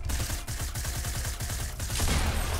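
Rapid bursts of gunfire in Fortnite, a quick regular train of loud shots up close, continuous and dense with no talking over it.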